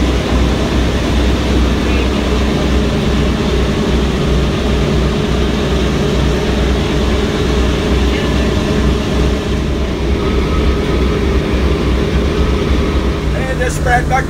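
The engines of a WWII Boeing B-17 bomber drone loud and steady from start to finish, a dense, unbroken roar close by.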